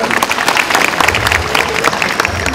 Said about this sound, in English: Dr. Shanti, give a round of applause, please.